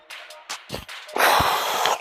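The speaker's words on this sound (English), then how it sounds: "Sorry about the heavy breathing," Heavy, effortful breathing from someone in the middle of a core workout: a few sharp gasps and snorts up close, then a sustained rush of loud, harsh exhalation.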